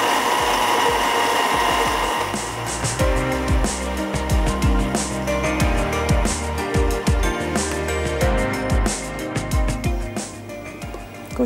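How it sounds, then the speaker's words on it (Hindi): Kitchen blender whirring through a dal and vegetable mixture, a loud close motor hum broken by rapid pulsing bursts and clattering as the contents churn, with no voices. "कुछ और चंक्स मुझे नज़र आ रहे हैं, तो इसको थोड़ा सा और ब्लेंड कर लेते हैं।"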